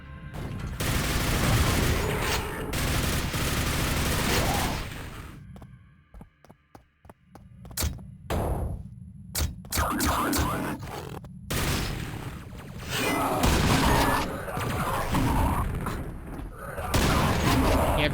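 A nail gun in Quake fires a rapid run of sharp, clattering shots in dense bursts, broken by short pauses, amid other game sounds.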